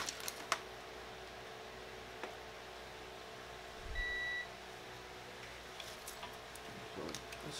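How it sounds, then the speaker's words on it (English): A multimeter set to continuity mode, used while building a quick-disconnect engine wiring harness for a Ford Escort, gives one short, clear electronic beep over faint background hum and a few light clicks. "I'm using my meter in continuity mode"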